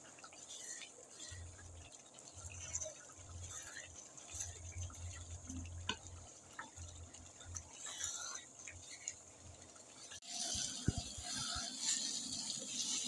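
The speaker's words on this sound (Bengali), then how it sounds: "কিছুক্ষণ নেড়ে নিব, এটা কালারটা চেঞ্জ হয়ে যাবে আরও।" Beef stirred in a hot pan while cooking kala bhuna, a steady scraping and wet hiss that carries on throughout and grows louder and busier near the end, over a low background hum.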